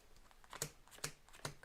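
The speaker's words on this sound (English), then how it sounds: "let me shuffle this one up" A deck of cards is shuffled for a tabletop board game, giving three quiet, crisp riffling bursts spaced about half a second apart against near silence.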